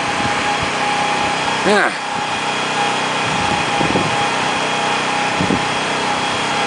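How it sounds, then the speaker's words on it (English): A compressor runs on a tall tower scaffold outdoors, a steady distant mechanical hum that continues throughout, while someone talks briefly over it. "They got some kind of compressor there."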